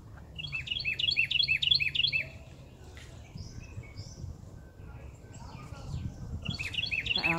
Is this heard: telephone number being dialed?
no